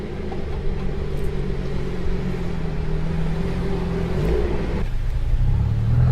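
A rare black Ferrari F50 supercar pulls out of a parking lot during Monterey Car Week, a loud, close engine rumble that builds steadily and revs up toward the end.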